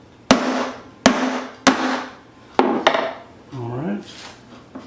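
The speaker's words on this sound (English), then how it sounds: "whack it a few times with this 2-pound brass hammer" Four or five sharp metallic strikes of a 2-pound brass hammer on a punch, evenly spaced and close, each ringing briefly, with a scraping sound near the end, punching the center from a 90% silver coin.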